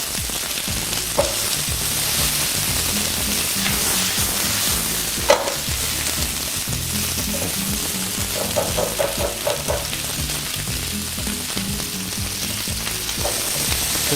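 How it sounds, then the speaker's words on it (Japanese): Vegetables stir-fry in oil in a frying pan for chop suey, sizzling steadily and loudly throughout, with occasional scrapes and clatters from stirring. "このお野菜の表面に油がなじむ程度に炒めれば結構です"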